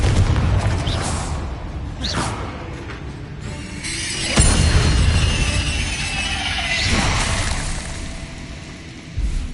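Blasting spell explosions in Hogwarts Legacy, a fantasy video game: a booming burst near the start, another sharp blast around the middle followed by crackling debris and rumbling magical effects, ending with a short thump.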